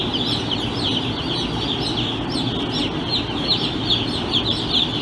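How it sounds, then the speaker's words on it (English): Broiler chicks peep steadily inside a farm chicken barn, a dense, continuous chorus of many high chirps layered over a low hum of barn noise, loud and close throughout. "it was a little hard to hear inside the chicken barn with all those baby chicks going peep, peep, peep"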